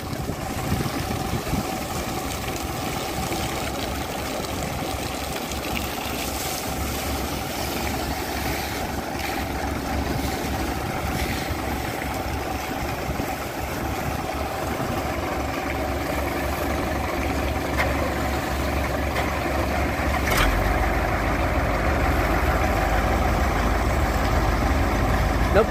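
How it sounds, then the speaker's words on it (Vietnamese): Engine on a sand pump barge in the Mekong Delta starts and idles, a steady, loud, droning rumble that thickens slightly toward the end, with no pause throughout. "Bây giờ nổ máy lên rồi đó các bạn."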